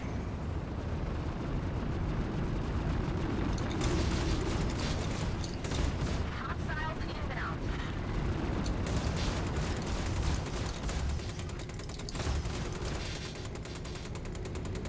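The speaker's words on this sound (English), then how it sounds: "That explosion looked really bad." Explosions and gunfire crackle from a space battle against a Vanduul swarm in Star Citizen, with the P52 Merlin in free flight: a dense, continuous roar marked by sharp bursts and rapid popping throughout.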